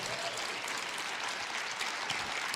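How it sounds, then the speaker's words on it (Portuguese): A church congregation at a conference applauding, dense continuous clapping from many hands, even and sustained throughout. "Você pode aplaudir a santa palavra do Senhor."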